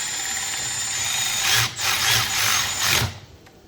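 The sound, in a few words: power tool tightening bolts on 7.3L Powerstroke turbo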